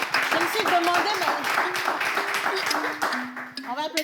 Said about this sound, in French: Applaudisse Miss Aïda parce que 2 mandats, c'est pas évident du tout.